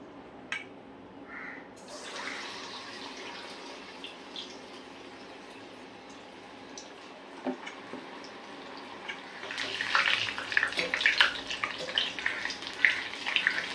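Two potato vadas deep-frying in hot oil, a steady fizzing sizzle throughout that swells louder and crackles more densely toward the end as they are turned.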